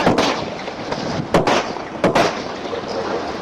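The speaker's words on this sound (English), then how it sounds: "Why did you shoot me?" Sharp gunshot bursts at a roadside stop, two distinct loud cracks about two-thirds of a second apart standing out over constant rumbling background noise.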